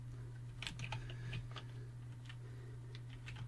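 Computer keyboard keys tapped in short, uneven bursts while entering a command-line format instruction, faint and close, with a steady low hum underneath and no voices.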